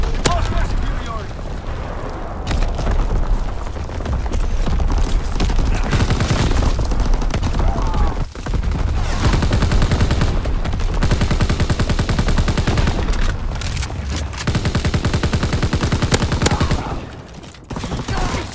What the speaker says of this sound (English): Incoming enemy artillery. Get to cover. Enemy anti-aircraft fire.